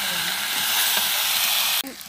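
Tomatoes hitting a hot pan of frying soybean curry with whole cumin, a steady loud sizzle and hiss that runs unbroken before dropping off sharply near the end.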